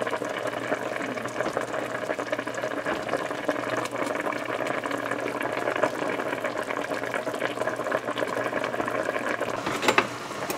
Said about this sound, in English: I'll let it boil because it doesn't have long more